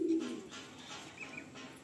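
A brief low coo from a female Madrasi pigeon opens the moment, followed by quiet ambient noise with no further calls.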